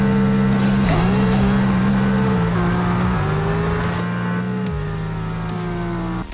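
A Lexus LFA on a drag run in Apex Racer screams at high revs close up, shifting up through the gears with short dips in pitch between long rising pulls.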